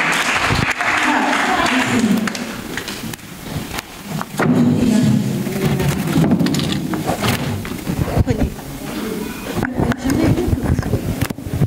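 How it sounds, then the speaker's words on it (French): Guests at a novel dedication ceremony applaud a woman, with bursts of clapping that start and stop between stretches of a voice and other speech. "Des applaudissements pour Madame, au moins."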